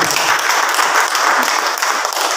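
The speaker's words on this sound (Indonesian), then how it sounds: "kita berikan tepuk tangan buat" Loud, dense audience applause at a Christmas celebration, many people clapping steadily and evenly close by for the whole stretch.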